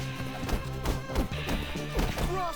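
Punches and blows land in a schoolyard brawl in the video game Bully, a quick series of heavy thuds and smacks over busy game music and background sound.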